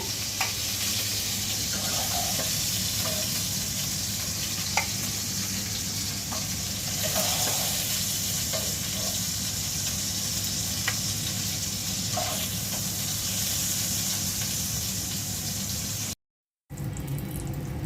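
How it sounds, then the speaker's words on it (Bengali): Boal catfish sizzling steadily in hot oil, a constant loud hiss with occasional light clinks of a utensil, ending in a brief dropout. "বেশি ভাজবো না হালকা ভেজে নেব এখন উল্টে দিচ্ছি"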